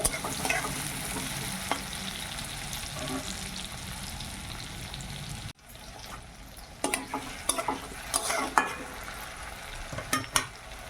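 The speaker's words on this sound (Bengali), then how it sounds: "এই মাছ ভাজার তেলে পেঁয়াজ আর টমেটোটা তুলে দিলাম।" Onion and tomato frying in leftover fish-frying oil in a village kitchen, a steady loud sizzle with stirring scrapes and bursts of crackle, briefly dropping after a cut and then rising again.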